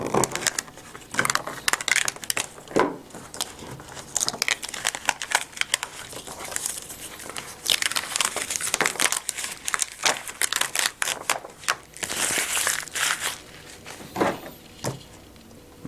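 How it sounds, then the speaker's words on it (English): Heat transfer Thermo-FILM vinyl being weeded for a two-button baseball jersey, a near, continuous crinkling and peeling with sharp ticks and tearing rasps that come in uneven bursts over a low hum, no voices. "let's go ahead and weed the Thermo-FILM for our 2-button jersey first"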